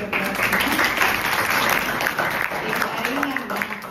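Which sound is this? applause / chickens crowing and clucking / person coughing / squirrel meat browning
applause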